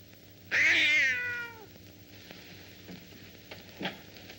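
A cat gives a single loud, clear, drawn-out meow close by, lasting about a second, followed by quiet rustling and faint background noise.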